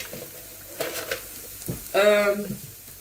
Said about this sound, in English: heat oil in a pan